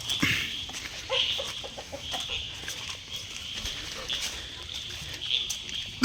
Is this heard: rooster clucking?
yes